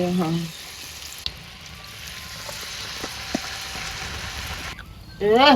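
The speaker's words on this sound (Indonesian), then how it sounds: "Dadar jagung digoreng" Corn fritters frying in hot oil, a steady sizzle and crackle running throughout with occasional sharper pops, and brief voices at the start and end.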